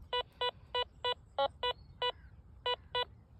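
Minelab X-Terra Voyager metal detector giving a target signal, about ten short evenly spaced electronic beeps, clear and faint background, no talk.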